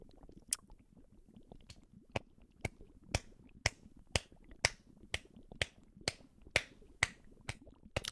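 One person claps for himself, about fourteen sharp, close-up claps in a slow, steady rhythm, with no talking.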